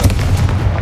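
A Confringo spell blast in Hogwarts Legacy, a single loud, short explosive boom with a rumbling body, heard alone.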